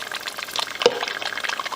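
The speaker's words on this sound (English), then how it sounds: "you go ahead and add water" About half a cup of water pours into a pot of peanut melon soup thickened with peanut butter, a steady close splash and trickle lasting under two seconds with no talk.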